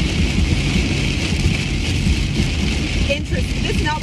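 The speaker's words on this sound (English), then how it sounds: "if it's raining this bad in Dallas, I'm so glad we're not sitting outside" Heavy rain pours steadily in Dallas, a dense, unbroken roar of downpour that stays loud and close from start to finish, with no voices.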